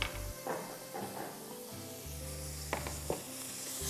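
Ginger and garlic sizzling and sautéing in a hot pan for chicken liver masala, quiet and steady, with occasional scrapes of stirring.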